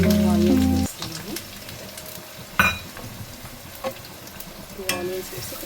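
Chopped onions hiss and crackle in about three tablespoons of hot oil for a prawn and drumstick mango curry, a steady close sizzle broken by a few sharp spatula scrapes and clanks, with a short musical tone at the start.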